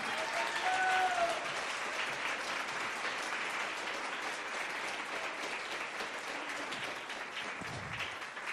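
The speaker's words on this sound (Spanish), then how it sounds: "Si le vas a aplaudir, dáselo fuerte" Congregation applause during a Spanish-language church service, a steady wash of many hands clapping that holds evenly throughout, moderately distant and fairly quiet.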